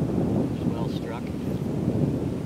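Wind buffeting the microphone on a golf course, a steady low rumbling roar that persists throughout with slight swells, close and fairly loud.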